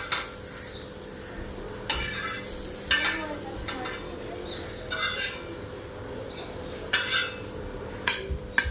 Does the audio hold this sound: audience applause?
no